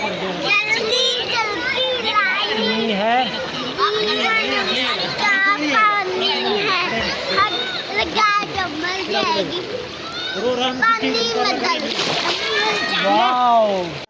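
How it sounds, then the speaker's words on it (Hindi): Children splash and slosh in a swimming pool while sliding, with continuous watery splatter under lively shouting and chatter from kids and an adult, close and busy throughout. "हरीम आ जाए बेटा, चलें भाई स्लाइडिंग करके दिखाएं।"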